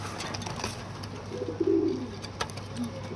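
Domestic pigeons coo softly in a loft, a few low murmuring calls rising faintly over steady background hum and scattered rustling.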